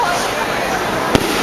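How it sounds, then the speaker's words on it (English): A single sharp firework bang goes off in a street in El Salvador, loud and brief against steady crowd and street noise with people talking. "Those aren't gunshots. Oh, yeah, they're fireworks."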